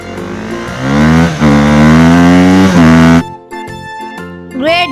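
A motorbike engine revs loudly with rising and falling pitch for about three seconds, then drops to a rougher idle before a short final rev.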